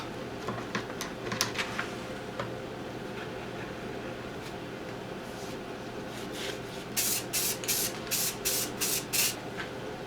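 Short spray-can bursts of silver paint going over green on a homemade fire tornado gun, several quick hissing pulses near the end after a stretch of quieter shuffling and rubbing.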